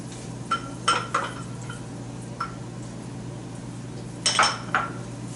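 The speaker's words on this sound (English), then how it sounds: "Okay, now I'm going to add my onion." Onion tipped into a cooking pan for a spaghetti sauce, giving a few sharp clatters and clinks of utensil against metal over a steady low hum, with no clear sizzle.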